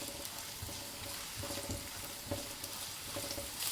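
Minced garlic sizzles and is stirred in hot oil in a wok, a steady close crackle with faint scraping and no talk.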